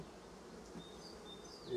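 A colony of honey bees from a settled swarm hums inside its hive during an inspection with a smoker. The buzz is faint and even, rising slightly at the very end.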